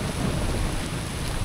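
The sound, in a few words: thunder during rain storm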